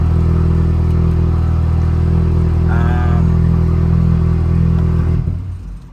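An Alfa Romeo Giulia engine runs at a steady, close idle with a low humming drone and a faint whir, then cuts off near the end and the sound quickly fades away.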